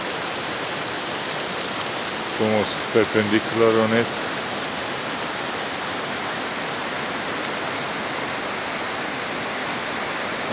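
Mountain creek rushing steadily at the junction with Ivan Thomas Creek in Kananaskis, a constant broadband wash of water with a brief spoken remark partway through.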